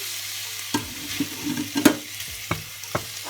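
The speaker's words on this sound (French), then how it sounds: "Je vais mettre donc le tofu" Tofu hitting a hot pan for a vegan peanut mafé, a soft steady sizzle broken by light stirring clicks and scrapes.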